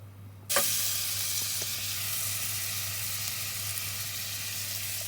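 Onion hits hot oil in a pot for couscous, starting with a sudden loud burst of sizzling after a quiet half second, then a steady close hissing fry over a low constant hum.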